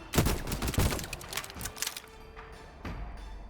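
Gunfire in the video game Void Train: rapid bursts of close, loud shots rattling in quick succession for about two seconds, then a few scattered single shots under a low background hum.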